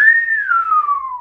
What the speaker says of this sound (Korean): 이렇게 휘파람 부는 거 있잖아요.